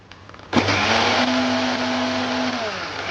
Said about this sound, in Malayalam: അങ്ങനെ തേങ്ങയെല്ലാം ചെന്ത് ഞാൻ അതിലൊരു കഷ്ണം ഉള്ളി എടുത്ത് ഇട്ട് എന്നിട്ട് അരക്കാൻ വെച്ച്